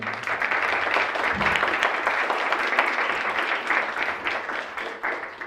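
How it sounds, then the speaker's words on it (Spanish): An audience at a talk on multispectral imaging breaks into applause, a continuous even wash of clapping from a crowd heard from a moderate distance, with no voices, tapering slightly at the end. "aplauso, por favor"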